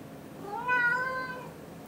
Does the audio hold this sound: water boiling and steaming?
no